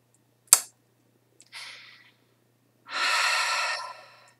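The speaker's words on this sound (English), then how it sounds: "So just breathing in and out" Slow breaths drawn in and let out during a calm meditation session: a short sharp sound, a brief soft inhale, then a longer, steadier exhale, all close and alone in a quiet room.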